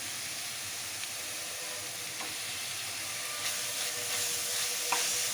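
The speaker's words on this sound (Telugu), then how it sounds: "పచ్చి వాసన పోయే వరకు ఫ్రై చేసుకోవాలి." Ginger-garlic paste fries in oil with bay leaves, cloves, cinnamon and green chillies for a mutton curry, making a constant, even sizzling hiss with occasional faint stirring clicks.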